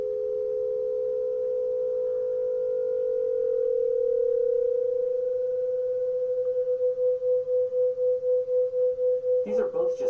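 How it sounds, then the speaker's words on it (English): Two simple pure tones sounding close together in pitch, holding a steady hum whose loudness begins to pulse in a regular wavering rhythm as it goes on, ending with a brief burst of broadband noise. "The pulsing effect you are hearing is called beating"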